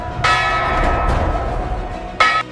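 Big Ben, the largest bell in Britain, striking over London: two loud, deep strikes about two seconds apart, each leaving a rich, humming ring that lingers and slowly fades.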